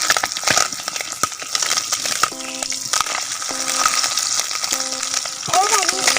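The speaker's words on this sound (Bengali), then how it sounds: "দেখুন মাছটা কেমন ফুটছে।" Fish sizzles and crackles loudly in hot oil in a pan, a continuous close frying hiss with occasional spatter and stirring, with brief faint voice in the background.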